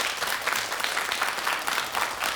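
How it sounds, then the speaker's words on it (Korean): Studio audience applauding a Seoul National University medical school professor at the close of a morning talk show segment, a steady, fairly soft wash of clapping that holds evenly for a couple of seconds with no talk over it. "우리 서울대학교 의과대학 박상철 교수님께 감사 인사를 박수로 전해 올리겠습니다."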